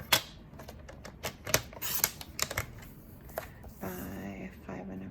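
Paper is trimmed down on a small blue card piece with a quick series of sharp clicks and cuts, followed by a softer scraping slide near the end, all close up.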